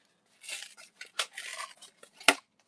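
Long scissors cutting through one-ply cardboard, a series of crisp snipping and rasping strokes with short gaps, ending in a sharp final snap, close and alone.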